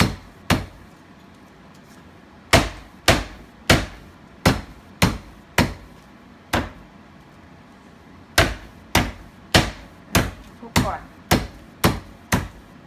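A knife chops fresh lemongrass stalks on a cutting board in a home kitchen, with loud, sharp, close thuds: a few single strikes, a pause, then steady runs of evenly spaced chops.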